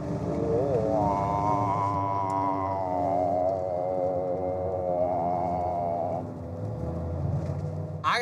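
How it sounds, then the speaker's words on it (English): Dodge truck rolling on 37-inch mud terrain tires: a steady, droning tonal hum with a gently wavering pitch runs close and continuous throughout, over a low rumble. "Can you hear the tires?"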